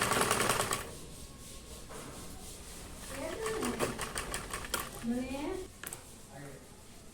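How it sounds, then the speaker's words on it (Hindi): A sewing machine stitches a bra-cut blouse in quick rattling bursts of rapid needle clicks, close and fairly quiet, with someone talking between and over the runs. "अब इसे मैं इस तरह से इस पर सिलाई कर दूंगी।"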